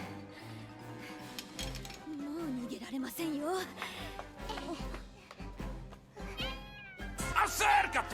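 A cat meows several times in drawn-out, wavering cries, close and clear, mixed with a voice talking and faint background sound.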